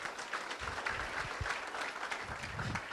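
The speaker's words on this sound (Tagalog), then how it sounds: "Hindi po yan ang palakpak na gusto ko." An audience at a sales orientation event claps in a dense, steady wave of applause that fills the whole stretch without fading.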